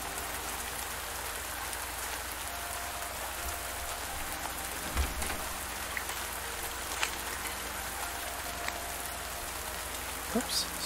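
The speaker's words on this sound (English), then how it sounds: "Out in the rain." Rain falling in the farming video game Pumpkin Days, a dense steady hiss of rainfall on surfaces that carries on throughout, with a few soft thuds and clicks over it.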